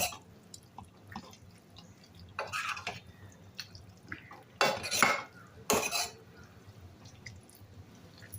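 Spoon scraping and knocking inside a pot as a thick taro-leaf curry is stirred, a few louder bursts of clatter amid soft wet mixing sounds, no voices.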